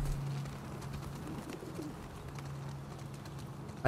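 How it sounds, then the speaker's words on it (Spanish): Pigeons in The Last of Us Part II give low, soft, steady coos over a quiet ambient background. "Hay palomas."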